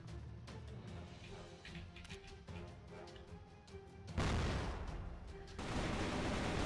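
Rapid gunfire bursts from the Crossfire video game during a ranked match, loud repeated shots in quick succession, growing louder and denser toward the end.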